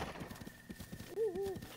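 A horse in the video game Zelda: Breath of the Wild trots with rapid clip-clop hoofbeats, then gives a short whinny near the end, all brief and moderately quiet.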